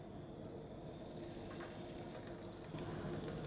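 Seasoned land-based salmon fries in a pan of olive oil and local butter, producing a continuous dense sizzle at a steady moderate level that swells slightly near the end.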